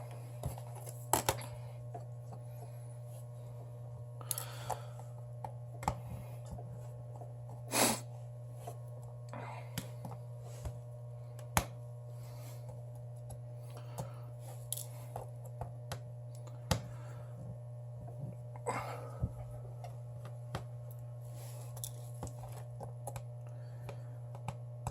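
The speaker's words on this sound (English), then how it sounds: "So all these screws here we're going to go ahead and remove right now." Small screws being backed out of a Samsung Galaxy S7 with a size 00 Phillips screwdriver during a glass repair, giving scattered faint clicks and ticks close up over a steady electrical hum, with no talking.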